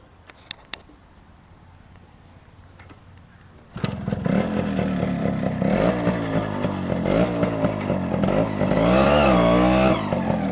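Japanese-carburetted two-stroke motorcycle from the 1990s sets off on a test ride. After faint ticking and quiet idle, it bursts into a loud, close buzzing rev that rises and falls through gear changes and climbs to a sharp peak near the end.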